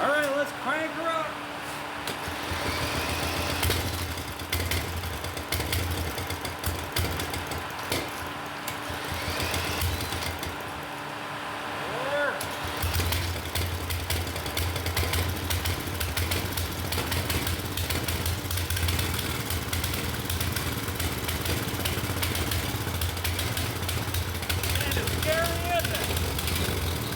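An engine running on wood gas from a homemade gasifier cranks and then catches, settling into a steady mid-pitched chugging that carries on to the end, with a person talking over it.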